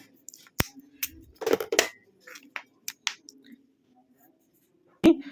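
Scissors cut through a USB charging cable in a mobile charger repair, with several close, crisp snips and crunches spaced irregularly and a louder snip near the end.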